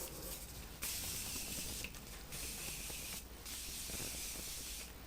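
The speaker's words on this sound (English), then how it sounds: "it doesn't really shoot out those crazy spritz that everybody other setting spray does" Morphe setting mist is sprayed in several close, soft hissing bursts, each lasting about a second, separated by brief pauses, with no talking.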